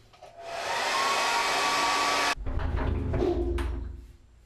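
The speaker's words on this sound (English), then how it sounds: "I can put the hair dryer in the plug." A hair dryer plugged into a bathroom wall socket runs with a steady, loud whooshing roar for about two seconds, then cuts off, followed by a few rougher handling noises as it winds down.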